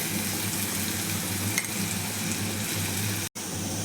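Onion sautéing with cumin and mustard seeds and a little salt, a steady even sizzle with a faint low hum beneath, briefly dropping out near the end.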